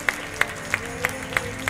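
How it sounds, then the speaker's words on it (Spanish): A church congregation claps in a slow, even rhythm, six distinct sharp claps spaced about a third of a second apart over a low background hum. "Dale un aplauso al Señor."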